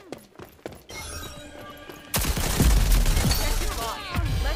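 Spitfire gun fire in the Rogue Company video game, a dense rapid burst of shots and impacts erupting midway and continuing to the end, preceded by scattered clicks and quieter game effects.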